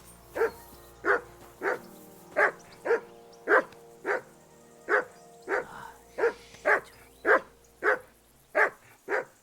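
A dog barks repeatedly at a character in Kingdom Come: Deliverance II, with about fifteen loud, evenly spaced barks running steadily through the stretch over faint game background.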